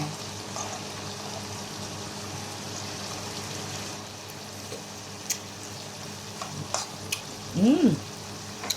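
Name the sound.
water spinach adobo simmering in a pan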